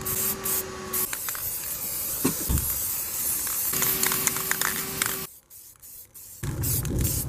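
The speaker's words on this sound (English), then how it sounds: "Now for just the small pieces like the cam bearings, I'm just going to put them on this box here and spray them down." Aerosol spray paint bursts onto small engine parts such as cam bearings set on a box, several hissing sprays of varying length separated by brief pauses, close and loud.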